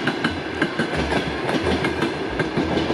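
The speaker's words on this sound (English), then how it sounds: "It's a bit noisy here with the train." A train passes close by in a city, loud and continuous, with a steady rhythmic clickety-clack of wheels over rail joints and a rumbling low roar throughout.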